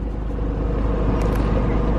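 Inside a Honda CR-V converted with a B20 VTEC engine and 5-speed, a steady loud low engine drone and road rumble fill the cabin while driving, with the whole car vibrating.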